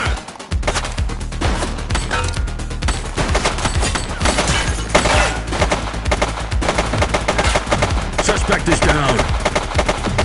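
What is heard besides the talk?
gunfire in The Precinct video game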